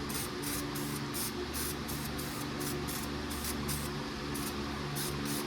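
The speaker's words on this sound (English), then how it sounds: "So I'm gonna get all of this sprayed out." Short hissing bursts from a spray can coat the inside of a race car trunk, a rapid run of evenly spaced sprays heard close and alone against faint background noise.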